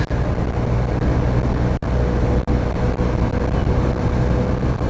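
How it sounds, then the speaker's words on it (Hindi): A Bajaj V15 motorcycle cruising at around 90 km/h, its engine drone steady and loud beneath heavy broadband wind rush, continuous for the whole stretch apart from two brief dropouts. "ये देखेगा 90 की स्पीड आ चुकी है और बिना वाइब्रेशन के इंजन रन कर रहा है।"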